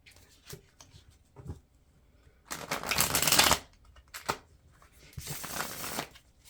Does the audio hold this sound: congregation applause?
no